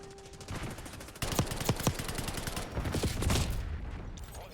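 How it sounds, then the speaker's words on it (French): Gunfire in the shooter video game Black Ops 6: after a quiet start, sharp, distinct shots crack out in quick bursts, with a second cluster of rapid fire a little later. "quand on tire 20 fois dans la tête"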